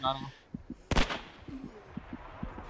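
Gunfire in the World War II shooter Hell Let Loose: one loud, sharp burst, followed by faint scattered pops and thuds from farther off, with a voice briefly audible at the start.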